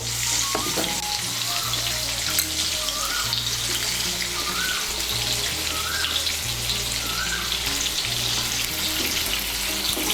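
Sliced potato sticks seasoned with salt and turmeric fry in hot oil, a steady loud sizzle running throughout with a low background hum and occasional faint clinks.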